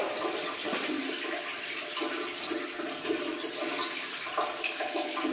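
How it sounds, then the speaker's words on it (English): Running water from an open sluice powering a water-driven lift in England, a steady broadband rush and gurgle that holds even throughout without any talk. "from the running water"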